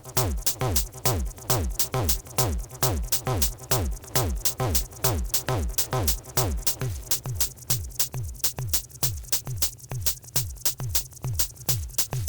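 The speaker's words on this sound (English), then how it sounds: "So there's distortion without a distortion module." A harsh, buzzy modular synthesizer tone pulses in a fast repeating rhythm, gritty and distorted without a distortion module, with sweeping pitch glides on each beat.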